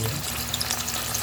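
A burger patty fries in hot oil with a dense, steady sizzle and crackle, close and continuous throughout.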